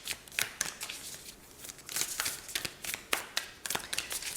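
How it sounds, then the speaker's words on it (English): Tarot cards being shuffled by hand, a quick run of crisp riffling slaps and flutters repeating in bursts, close and fairly quiet, with no talking. "we're gonna go ahead and shuffle some other cards"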